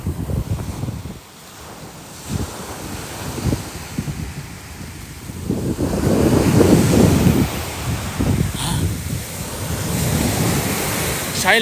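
Strong wind buffets the microphone over the steady wash of surf at Bang Saen Beach, Chonburi, Thailand, gusting louder midway, with no talking.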